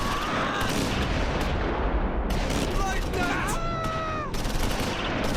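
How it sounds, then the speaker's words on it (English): Close Combat 4 Battle of the Bulge battle scene at Esch sur Sure with dense machine gun fire and rifle shots rattling continuously and loudly, mixed with sharp whistling rounds and a voice talking over the din. "Along with first platoon's medium machine gun, frontal and flanking machine gun fire."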